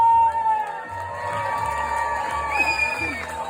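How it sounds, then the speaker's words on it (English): A crowd at an old-school revue pinup contest cheers and whoops for a contestant, with shouts and high voices rising over scattered clapping, fairly close and lively throughout. "Let's give a big round of applause for Miss Chevy Girl"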